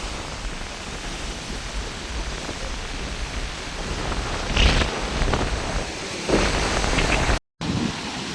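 Storm-driven sea waves pound the shore in Jaffna during a cyclone, a loud continuous roar that swells with a few heavier surges.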